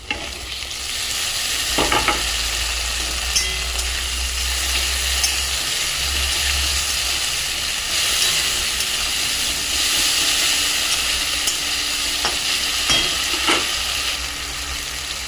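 Tomato and ginger frying with onions in a pan for egg kosa, giving a loud, continuous sizzle and hiss, with scraping stirs near the two-second mark and again around thirteen seconds.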